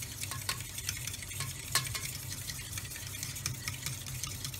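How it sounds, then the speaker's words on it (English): A whisk or spoon stirs one egg with about half a cup of milk in a small bowl, making quick, steady scraping clicks against the bowl over a low background hum, with no talking. "we're going to crack in 1 egg and add about half a cup of milk. And we want to give that a quick stir and get it combined."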